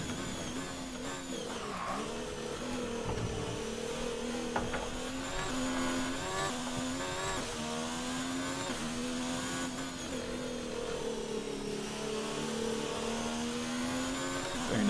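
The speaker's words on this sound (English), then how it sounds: "So just listen to the sounds of the car." A Ferrari Formula 1 car's engine in the F1 2019 video game screams through a qualifying lap at the Italian circuit. The loud, continuous whine rises and falls with each gear change and corner.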